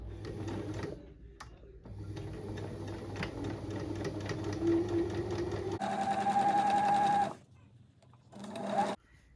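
A sewing machine runs a straight stitch along the sides of a Chloe-style tote bag, whirring in bursts with a few short pauses, up close and without talk.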